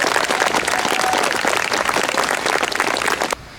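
An audience at a 2010 Dunvegan Bridge 50th anniversary celebration gives a steady round of applause, dense clapping that carries on for about three seconds before cutting off abruptly into quiet.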